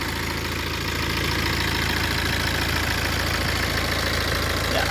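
A 2016 BMW 218d M Sport with a manual gearbox idles its 2-litre TwinPower single-turbo diesel engine, producing a steady, even, close rumble that runs unbroken throughout.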